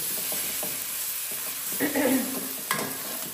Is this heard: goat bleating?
no